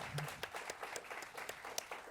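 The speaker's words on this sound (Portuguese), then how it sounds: "Então eu queria uma salva de palmas a Maurício Chiappetta." Faint applause from an audience at a live recital at SESC: scattered, distinct claps from a modest number of hands, fairly quiet and somewhat distant, with no speech over them.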